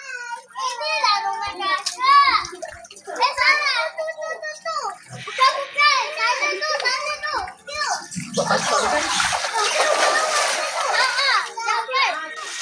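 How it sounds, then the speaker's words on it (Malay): Children shout and chatter excitedly while water splashes around them in a chalet swimming pool, lively and close, with a burst of louder splashing near the end. "Seronok mandi kolam."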